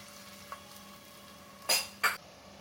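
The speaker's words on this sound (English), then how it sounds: "So in goes the oil, to this I'm adding the onions." Onions dropped into oil in a pressure cooker for mutton biryani, giving two short, sharp sizzling bursts over a low kitchen background hum.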